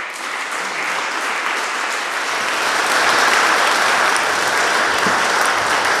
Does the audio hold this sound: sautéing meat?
no